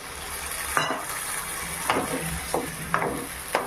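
Papaya and potato frying in a pan for a vegetarian poppyseed dish, with a steady sizzle broken by about five sharp stirring scrapes at uneven intervals, close and clear, nobody speaking.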